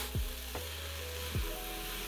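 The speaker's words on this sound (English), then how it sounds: "Let it saute." Mushrooms sautéing in a pan with a little salt and soy sauce or tamari, a steady soft sizzle with a few brief clinks or scrapes, fairly quiet and without talk.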